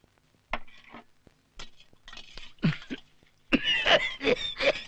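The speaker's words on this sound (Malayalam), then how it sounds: "ബീഡി വലിക്കുമ്പോ ചുമയ്ക്കും" A man coughs and clears his throat while smoking a beedi, a few rough bursts separated by short pauses, close and loud toward the end, with faint clinks nearby.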